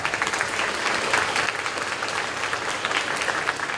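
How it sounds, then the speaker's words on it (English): Steady applause from an audience honoring high school students at an academic awards ceremony, dense sustained clapping filling the room with no voices over it. "Let's give all of our students a round of applause."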